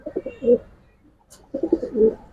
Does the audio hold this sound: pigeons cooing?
yes